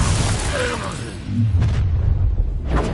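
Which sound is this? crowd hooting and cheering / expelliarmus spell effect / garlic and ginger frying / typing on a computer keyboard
expelliarmus spell effect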